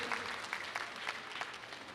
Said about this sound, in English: Please give a big round of applause again